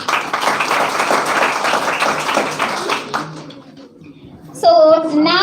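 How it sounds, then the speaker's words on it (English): Audience applause at a college Republic Day public speaking contest, dense clapping for about three seconds that fades out, followed by a sudden loud tonal sound near the end. "let us start the session with a great round of applause"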